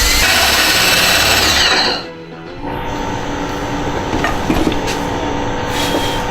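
A power tool whines steadily, then stops briefly before a lower mechanical hum and grinding continue, close and loud.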